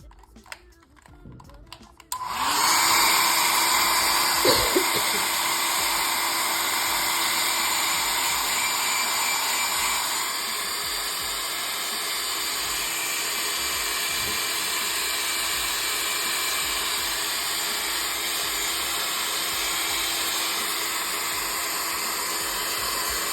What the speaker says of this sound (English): And now I'll use my heat gun.